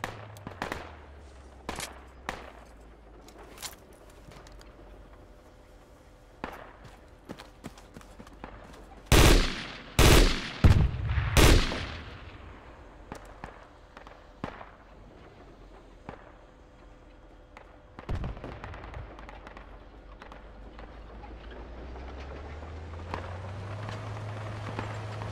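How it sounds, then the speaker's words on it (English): Gunfire in Project Reality: scattered single shots crack out early, then a tight cluster of loud rifle bursts rings nearby, followed by sparser distant shots and a rising engine rumble. "You're free to open fire."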